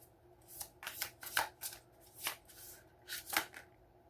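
Tarot cards shuffled by hand at a close distance, a series of crisp riffling bursts in irregular rhythm, fairly quiet with no talking.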